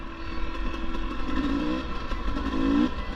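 A 2022 GasGas EC 300 two-stroke enduro motorcycle engine drones steadily while riding, moderately loud and continuous with a rising whine near the end and no talk.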